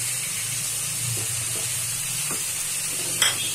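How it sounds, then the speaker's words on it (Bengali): Cauliflower, tomato and potato bhaji sizzles steadily in a pan while being stirred, a continuous frying hiss with soft scraping strokes and a brief clink near the end. "নেড়ে চেড়ে নেওয়া হচ্ছে"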